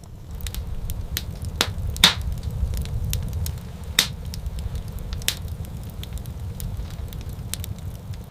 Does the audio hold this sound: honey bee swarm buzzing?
no